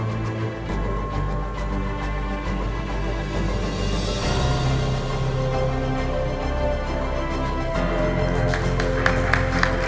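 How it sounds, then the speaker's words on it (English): Audience applause during an award ceremony at an international tax conference, a steady wash of many hands clapping mixed with background music or hall sound, moderately distant and sustained throughout. "please give a applause for all of us"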